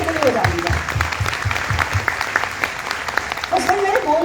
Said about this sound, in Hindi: एक बार जोरदार तालियां बजाएंगी मोदी केयर के लिए बजा दीजिए